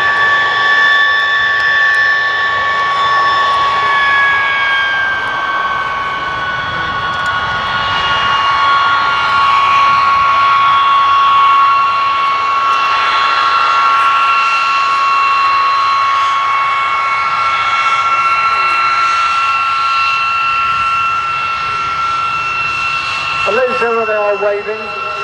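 De Havilland Vampire jet aircraft at the Dunsfold air show roar loudly and continuously as the engines whine at a shifting pitch, with a commentator talking over the noise.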